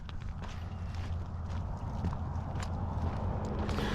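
A limping horse walking at an easy pace, its hooves giving a steady run of soft clip-clops over a continuous low outdoor rumble.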